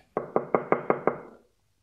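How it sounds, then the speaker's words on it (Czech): Six even, firm knocks on a wooden cottage door, close and clear at a steady quick rhythm, followed by silence. "Vlk šel zatím rovnou k babiččině chaloupce a zaklepal na dveře"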